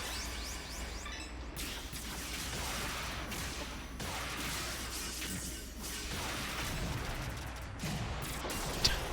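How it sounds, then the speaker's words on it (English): Explosions and weapon fire in the mecha action game Zone of the Enders: The 2nd Runner, a dense roar of blasts, crashes and whooshing bursts rolling on continuously, with a sharper impact near the end and no talk. "It's just that big of an explosion."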